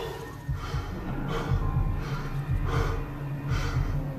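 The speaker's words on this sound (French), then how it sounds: "J'arrive pas à reprendre mon souffle." A person out of breath, gasping for air in heavy, rhythmic breaths, with about five loud, ragged inhales close to the microphone and no words.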